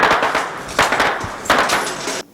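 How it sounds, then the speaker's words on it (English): Bursts of gunfire one street over in an Iraq war setting in 2011: three loud, ragged volleys of rapid cracks, each lasting around half a second, with no voices, ending abruptly. "We had gunfire one street over,"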